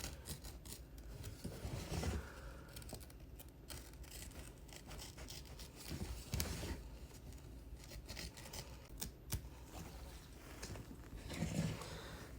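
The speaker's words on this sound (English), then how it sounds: "You could always go back for the little small pieces to snip it." Scissors making small trimming snips on embroidery thread around an in-the-hoop peppermint ornament, soft close crisp cuts and rubbing scrapes scattered over a faint background, no talking.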